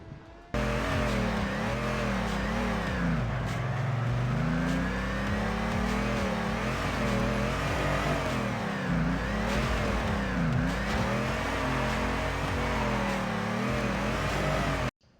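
Mustang V8 engine in the drifting game Torque Drift, revving hard and continuously with rising and falling pitch sweeps and a steady loud drone, heard alone throughout.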